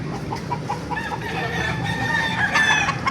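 Chickens and roosters at a poultry market in Baliuag, Bulacan, with close clucking through the first part and then a rooster's drawn-out crowing rising over the flock, with background market noise.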